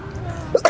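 A single short cough from a young person indoors, a brief close burst near the end preceded by a smaller throat sound, with no talk.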